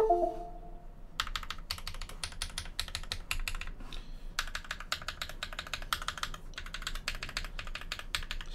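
Rapid mechanical keyboard typing on the outer row keys with Holy Panda switches in a brass J-01 build, dense clacky keystrokes in steady bursts with a short pause near the start, close and alone.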